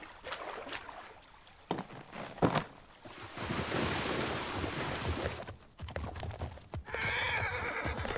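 A horse in a historic open-world survival delivery video game whinnies loudly, with clip-clop hooves and splashing water around it in a busy game soundscape.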